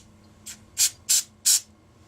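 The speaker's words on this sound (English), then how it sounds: "as soon as you spritz it with this, it just hardens up like a rock" Four quick hissing spritzes of hardener spray land on filler, short soft bursts spaced evenly about a third of a second apart, close and alone.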